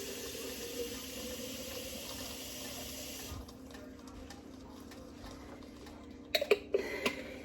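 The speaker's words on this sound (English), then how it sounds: "add a little bit of water" Water poured from a tap into a cooking pot while making lasagna, a steady rushing stream that cuts off partway, followed by a few brief clinks and knocks near the end.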